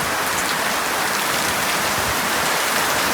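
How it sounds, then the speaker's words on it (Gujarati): Heavy, steady downpour hammering surfaces, a dense continuous hiss of rain that stays loud and even throughout with no voices. "વરસાદ તો જુઓ ખતરનાક વરસાદ પડ્યો છે"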